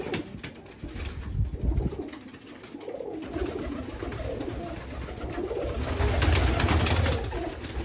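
Teddy pigeons in Oman coo in soft, repeated calls over a noisy, rustling background.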